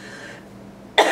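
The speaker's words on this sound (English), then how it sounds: "So now I'm coughing a ton again" A person coughs after smoke exposure at a fire pit, a single harsh burst near the end that follows a low, quiet stretch.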